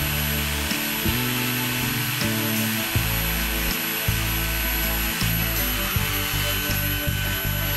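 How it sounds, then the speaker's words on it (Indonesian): An NRT-PRO TG-99 cordless brushless 4-inch angle grinder runs at 6900 rpm for sanding, a loud steady whine with a tonal motor hum and repeated rough surges as the disc bears against the work. "6900 rpm ini untuk ngamplas cocok rpm segitu"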